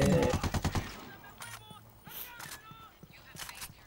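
Rapid bursts of automatic gunfire in the video game Ghost Recon Wildlands open the clip, followed by scattered single shots and sporadic impacts, with brief voices in between.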